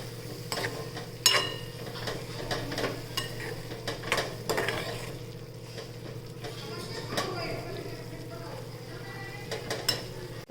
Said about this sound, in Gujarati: હવે સારી રીતે એને છે ને મિક્સ કરી દઈએ